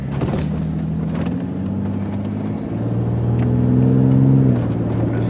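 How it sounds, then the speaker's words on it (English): A Ford Ranger engine with a loud Cherry Bomb exhaust muffler rumbles and revs up, its low throaty drone rising in pitch partway through and holding steady, close and loud with no talking. "This thing sounds pretty sweet with a loud cherry bomb on there, don't you think?"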